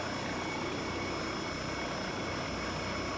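Steady broadband rotor and turbine drone from a VSL 902X-NTR helicopter in the X-Plane 12 flight simulator, constant and even in level throughout, with no speech.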